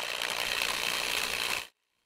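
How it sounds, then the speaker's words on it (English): A power drill whirs steadily for under two seconds, recorded to serve as a small motor in a sci-fi tank, then cuts off abruptly into silence. "This is the drill sound I recorded for this small motor."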